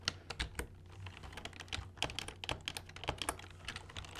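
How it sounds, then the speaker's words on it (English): Someone types quickly on a computer keyboard, the keys clicking in a dense, uneven stream at close range, with no talking. "you're challenging yourself at typing with multiple fingers?"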